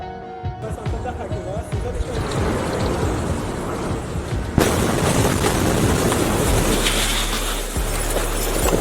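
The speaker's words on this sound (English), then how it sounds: "a sudden explosion shatters the silence across the entire area" A sudden explosion at a shipyard booms out as a loud broadband blast about halfway through, followed by sustained roaring and rumbling noise, with earlier background activity and some voices present.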